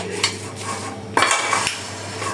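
Cutlery and dishes clink close by while Korean noodles are served, a few sharp metallic taps and scrapes against a bowl over a steady low kitchen hum.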